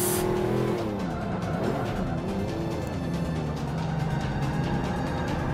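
Race car engine in the Forza 5 video game roaring steadily for several seconds with tire squeal and skidding as the car slides after a bump, loud and continuous with no talk.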